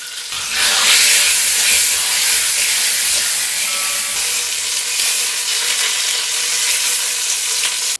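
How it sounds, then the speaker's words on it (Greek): Floured meat frying in hot fat in a pot: a steady, loud sizzle and hiss runs throughout, close up and continuous, with no talking. "Αφού κάψει το λίπος θα ρίξω μέσα το κρέας, τεινάζοντας το περιττό αλεύρι."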